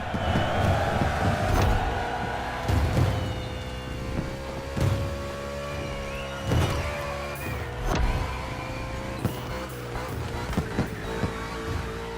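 A car in The Crew Motorfest drives steadily with a low engine drone, and several louder whooshing swells pass at irregular intervals.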